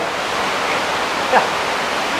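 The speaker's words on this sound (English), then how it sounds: "you can hear a big rumble of the streamway" A constant loud roar of an underground cave streamway, broadband and steady like rushing water, filling the whole moment with a faint brief knock near the middle.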